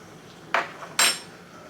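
A spoon clinks twice against a pot of applesauce, two short bright metallic scrapes about half a second apart over quiet room tone.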